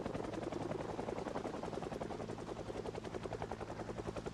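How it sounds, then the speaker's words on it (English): A helicopter in a video game thumps with rapid, steady rotor beats, loud and close, its pulsing chop continuing without a break and no voices over it. "Helicopter, helicopter, helicopter, helicopter."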